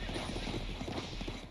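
Cavalry horse hooves in the Symphony of War video game make a rapid, steady clip-clop of galloping, loud and continuous over a dense battle backdrop.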